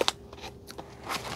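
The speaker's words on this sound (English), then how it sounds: "I'm just going to cut it so there's not a lot of ripping" Scissors snipping open a plastic package of stitch markers, giving a couple of quick, crisp cuts and crinkles at the start and a faint rustle later, close and quiet.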